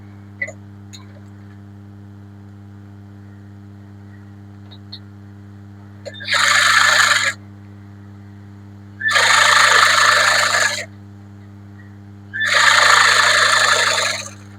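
A sewing machine stitches a lined blouse in three short whirring bursts of about a second each, separated by pauses, over a constant low electrical hum.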